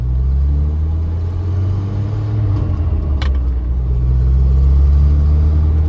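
A manual-transmission car moves off after the clutch is engaged and the gas pressed, its engine rumbling low and steadily and rising slightly near the end, with a brief jangle of keys in the middle and no talk.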